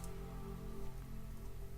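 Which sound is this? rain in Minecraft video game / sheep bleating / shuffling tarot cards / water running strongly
rain in Minecraft video game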